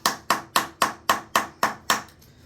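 A hammer taps eight times at a steady rhythm on a block during repair work on a rusted toilet flange, each strike sharp and close with a quick decay, then quiet.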